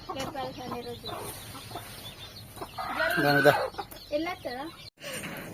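A chicken clucks in a series of short calls near a cooking area at home, with people talking alongside.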